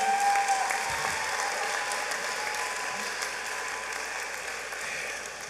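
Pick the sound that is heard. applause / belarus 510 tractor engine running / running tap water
applause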